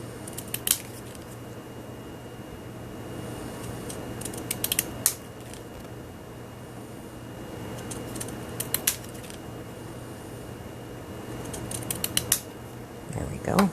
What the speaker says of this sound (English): I'm just going to take my little wavy scissors to cut the stamp out.